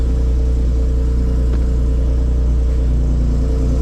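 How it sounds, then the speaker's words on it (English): An Infiniti G37's engine, prone to going into limp mode and hard to start, runs with a loud, steady low rumble close by, its even throb holding without a break and with no voices over it. "This thing don't even want to start. Okay. A little gas."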